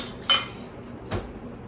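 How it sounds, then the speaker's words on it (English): A whisk or spoon clinks against a bowl as eggs are mixed one at a time into a roux for a quiche, giving two short separate metallic clinks, the first sharper and brighter, both fairly close and with no talking. "you mix 1 egg at a time with the roux to get it incorporated"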